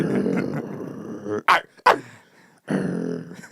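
A man imitates a dog, voicing two short, aggressive barks in the style of a rapper, loud and close, between stretches of his own talking.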